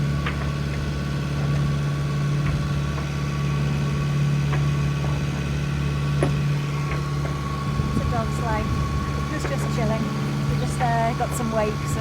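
A sailboat's engine idling at sea, a steady low hum and drone running throughout under a voice that talks across the middle and later part.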